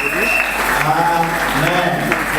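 A church congregation applauding during a Sunday worship service, steady crowd clapping filling the room with some voices mixed in throughout.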